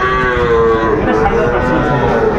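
A crossbred calf gives a long, drawn-out moo close by, loud and unbroken, with faint background noise.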